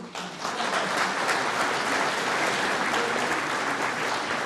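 A snooker audience at the 2024 Welsh Open breaks into steady applause that swells quickly and holds at an even level, dense clapping with no voices standing out.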